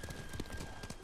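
A horse in Ghost of Tsushima trots along with rhythmic hoof clops, steady repeated strikes over a constant background hum, with faint voices mixed in.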